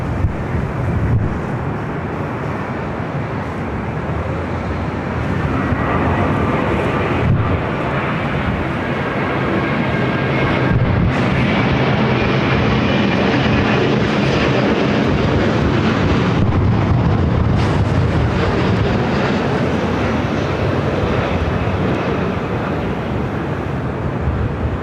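A Delta heavy jet airliner at LAX approaches with a loud, continuous broadband engine roar lasting throughout, heavily mixed with wind buffeting on the microphone, no voices.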